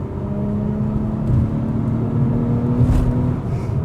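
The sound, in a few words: Acura TLX Type S engine accelerating on backroad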